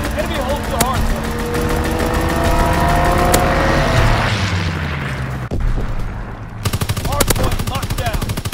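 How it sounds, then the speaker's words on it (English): Aircraft strafing run in Call of Duty WWII, with dense rapid machine-gun fire and booming impacts over a droning engine, loud and continuous with a sharp cutoff midway before the firing resumes, while voices talk underneath. "Strafing run inbound."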